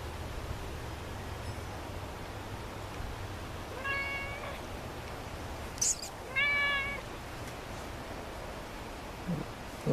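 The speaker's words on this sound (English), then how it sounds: "Here's my cat again." A cat meows twice outdoors on a windy day, with two clear, mid-loud calls a couple of seconds apart over steady wind noise and faint rustling.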